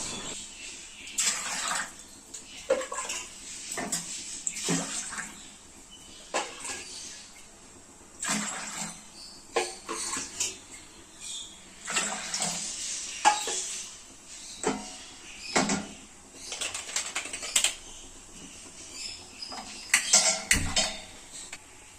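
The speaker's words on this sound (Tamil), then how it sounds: "இப்போ அளந்த அரிசி எடுத்து ஒரு முறை வாஷ் பண்ணிவிட்டு ஒரு பாத்திரத்தில் ஊற வச்சுக்கலாம்." Rice is washed in water in a vessel, with repeated splashing, sloshing and clinking of the pot at close range in irregular bursts, no talking.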